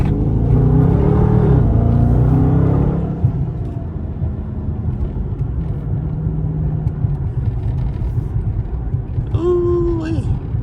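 Dodge Scat Pack engine rumbling low and steady inside the cabin on a night drive, with a voice talking over the first few seconds and a brief high chime near the end.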